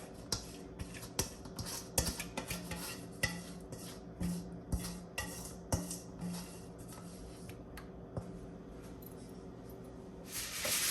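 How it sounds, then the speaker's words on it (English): Metal utensil scraping excess seasoning around the inside of a pan of honey garlic glazed lamb chops, giving a series of short, sharp scrapes and clinks in an irregular rhythm, close and fairly quiet. "I'm also gonna scrape all the excess season inside the pan as well"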